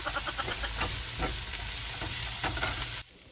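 Onions and garlic sauté in a hot pan for pork pochero, giving a loud, steady, close-up sizzle with a few stirring scrapes before it cuts off abruptly.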